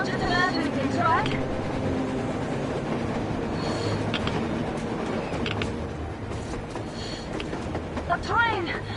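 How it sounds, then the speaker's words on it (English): Train rolling along the surface through a blizzard in the video game Metro, a loud continuous rumble with rhythmic clanks and squealing tones, under tense voices talking. "A train! A damn train on the surface!"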